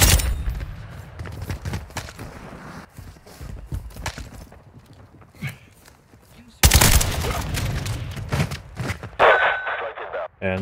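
Gunfire crackles in a hardcore team deathmatch of Call of Duty Modern Warfare 2, with bursts of sharp shots and rapid volleys scattered irregularly, loud at the start and again after a brief lull, with voices talking in between.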